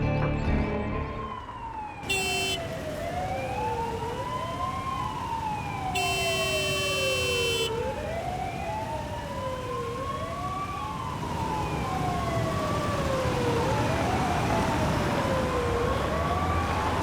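An ambulance siren wails, sweeping up and down repeatedly, loud and steady throughout, with brief electronic beeping bursts near the start and a continuous road rumble beneath.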